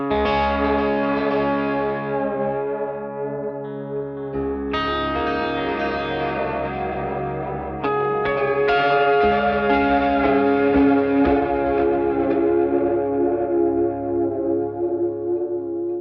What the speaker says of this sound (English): a more intense version of like a really battered old drum echo or tape echo